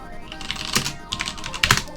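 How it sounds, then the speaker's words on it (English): Someone types on a computer keyboard, quick uneven keystrokes clattering close up with a few heavier clustered presses, no voices. "So to add a user, just basically start typing."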